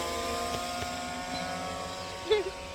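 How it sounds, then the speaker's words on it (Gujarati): A plane's propeller motor drones steadily overhead as a constant hum, with a brief burst of voice near the end. "તો મિત્રો અમારું વિમાન ઉડી ગયું છે"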